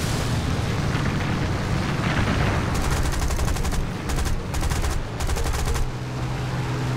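Gunfire in the War Thunder video game, a dense roaring barrage followed by several bursts of rapid automatic shots that stop and start, loud and continuous.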